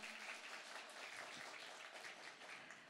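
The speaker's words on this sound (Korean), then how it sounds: "세 번째 발표를 해주신 우리 신성환 책임님께 다시 한번 큰 박수 부탁드리겠습니다" Steady applause from the audience at the 2023 Electronic Document Industry Day event in Korea, following the third case presentation, fairly faint and even throughout with no voices over it.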